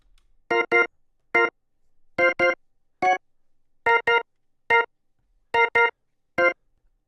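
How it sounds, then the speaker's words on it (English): A church organ sound in an FL Studio beat for a distorted rap track plays short, clipped chord stabs, often in pairs, separated by silences, with a faint quieter layer between the hits and no talk. "Moving on, I added this church organ"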